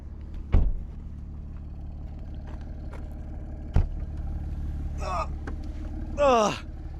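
A BMW F82 M4 fitted with an Eisenmann exhaust drives along, giving a steady low drone throughout, with a few sharp knocks and short breathy vocal sounds over it.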